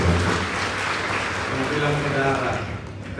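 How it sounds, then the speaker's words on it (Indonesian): A church congregation applauds during a Sunday sermon, a broad continuous wash of clapping across the room, with a voice talking and tonal sound running underneath. "Tepuk tangan dulu yang paling baik."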